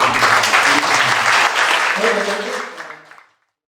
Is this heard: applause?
yes